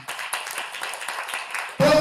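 An audience at a church breakfast meeting claps in a brief burst of applause, close and lively, followed by a sudden louder tonal sound at the end.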